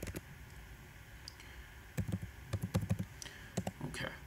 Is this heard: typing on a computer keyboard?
yes